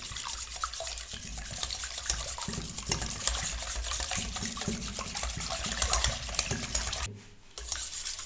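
An egg custard mixture with vanilla essence is gently stirred, giving a steady, close, swishing liquid wash that runs on continuously. It dips briefly near the end, and no one speaks.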